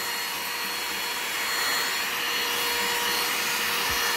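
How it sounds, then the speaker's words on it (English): A Clean My Bricks mini vacuum running steadily while cleaning dusty LEGO bricks, a close, constant high-pitched whine and airy hiss with a faint clunk near the end. "You guys are probably gonna have a hard time hearing me over the vacuum"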